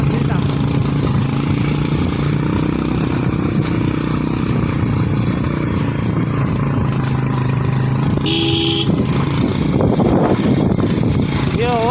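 Motorcycle on a village offroad track near Balubang stream, its engine droning steadily and loud throughout, close by, with people talking over it and a brief horn-like tone midway.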